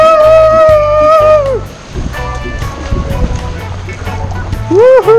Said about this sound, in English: That was like riding a big wave